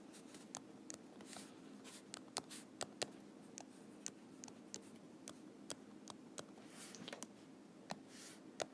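Marker or pen strokes squeaking and tapping across a board while a Lewis dot structure is drawn by hand, a steady run of short sharp strokes and dots close by with a low hum underneath.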